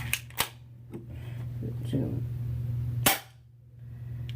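A Stinger P311 M1911-style airsoft pistol fires two sharp, close snaps early on, then one louder crack later, over a steady low hum and faint room noise.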